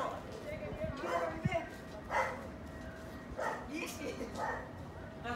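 Several dogs bark and yip in short bursts at a moderate distance, mixed with people talking nearby, during kite flying on a rooftop.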